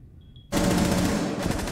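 Rapid automatic gunfire in a video game breaks out suddenly after a near-silent half second, a loud, dense burst of shots that continues steadily to the end.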